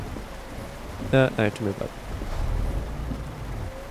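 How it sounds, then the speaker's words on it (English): Steady rain drumming in the Euro Truck Simulator 2 driving game, a broad continuous hiss that runs the whole time while someone speaks briefly over it. "look at all this rain."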